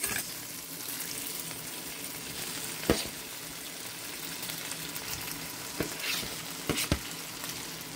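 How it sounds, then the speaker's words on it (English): Leftover rice sizzling and frying steadily with onions in a pan, a continuous crackling hiss broken by a few sharp scrapes and clacks as it is stirred. "we're going to add the rice. And that's our leftover rice"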